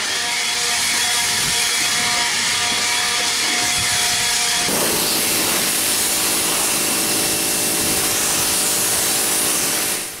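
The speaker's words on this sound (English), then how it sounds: "you can use a wire wheel or a wire cup brush like I'm using here on an angle grinder or a drill" Wire cup brush spinning on an angle grinder against a rusty mower deck, a loud continuous abrasive whir and scrape that changes pitch and texture midway, steady throughout with no talk.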